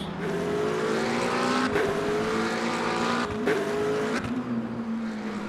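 A race car engine over-revving in Le Mans Ultimate, a sustained high, strained drone that climbs steadily in pitch, with several brief gear-shift dips and tire noise, loud and close throughout.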